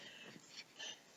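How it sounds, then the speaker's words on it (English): A family dog indoors gives a few faint, brief whimpers and wheezy breaths, spaced over about a second, quiet and in the background. "If you hear noises in the background, that's the family dog."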